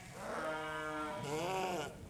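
Two long, wavering bleats from ewes and lambs follow one another, one higher than the other, over a quiet background with no talking.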